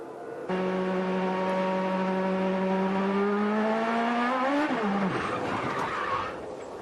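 An IndyCar engine, heard onboard Scott Dixon's car at Watkins Glen in 2008, drones loud and steady, then its pitch climbs and drops abruptly as the car spins under yellow, fading out after a brief rough patch.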